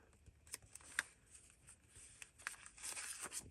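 Paper is creased and folded by hand while a journal is being made, giving faint, close crinkles and soft papery swishes in short scattered bursts with no voices.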